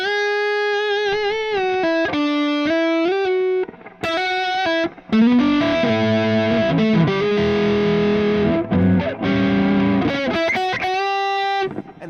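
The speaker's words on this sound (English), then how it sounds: "the drive pedal going to the front end of the amp, inside the DAW, the delay and the reverb running in parallel" An electric guitar played through a drive pedal into an amp, with delay and reverb in parallel: distorted sustained chords and melodic lines, loud and close, with brief pauses and echoing tails.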